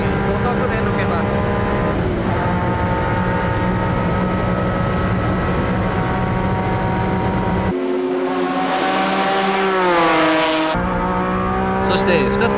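A 1994 Honda NSX race car at Le Mans, heard from the driver's seat, screaming at high revs in fifth gear down the straight, with a loud, sustained engine whine that rises in pitch and then drops sharply through a gear change.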